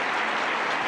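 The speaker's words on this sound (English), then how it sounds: "why is he getting such a long applause?" Sustained applause from a large meeting audience at the 2025 JW Annual Meeting, dense steady clapping with no pauses and no voices.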